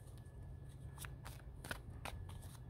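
Tarot cards being shuffled, a few quick riffling bursts spaced across a low background hum, near and fairly quiet with no talk.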